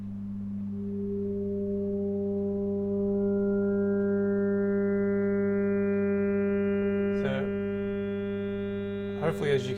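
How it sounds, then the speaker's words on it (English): Sine wave oscillators are layered one after another to build toward a sawtooth wave. A steady low buzzing tone grows brighter and richer as higher harmonics enter in steps, with a couple of brief glitchy bursts near the end. "sine wave oscillators together to produce something beginning to approach a sawtooth wave"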